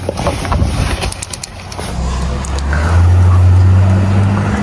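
A supercar drives through snow, its engine rumbling close and rising to a loud, sustained drone, with brief clicks and knocks in the first couple of seconds.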